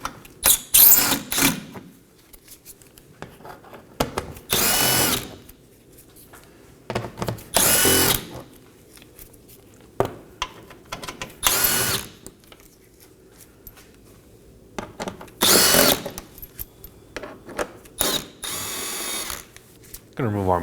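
A power drill runs in repeated short bursts while removing 7mm bolts from the splash shield under a 2018-2024 Chevrolet Equinox 1.5L, with quiet pauses between each loud whir and ratcheting clicks.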